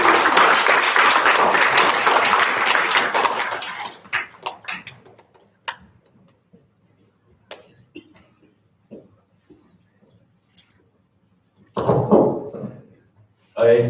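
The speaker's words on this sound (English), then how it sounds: "A round of applause." An audience at a youth presentation applauds loudly for about four seconds, then the clapping fades to scattered claps and small knocks before a second short burst near the end.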